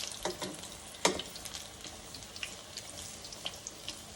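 Buttermilk buffalo cauliflower fries in hot oil with a soft, steady sizzle and scattered crackles and pops, one sharper pop standing out, heard close and fairly quiet with no talking.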